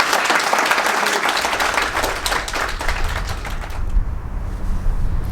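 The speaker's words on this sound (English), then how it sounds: "Can we please give a big warm round of applause for Stefan Drury" Audience applause for Stefan Drury after his talk, a dense crowd clapping loudly and steadily for the whole stretch and thinning slightly near the end.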